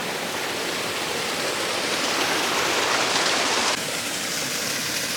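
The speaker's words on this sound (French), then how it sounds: "Il y a une petite cascade ici." A small forest waterfall gives off a loud, steady rushing hiss close by, constant throughout with a slight change in tone near the end.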